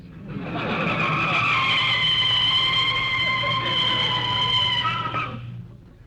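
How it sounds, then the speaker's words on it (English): Car tires screech loudly as the vehicle brakes to a stop, a sustained squeal of about five seconds that rises quickly and cuts off, with no speech, in an old radio-comedy setting. "You can start putting on the brakes."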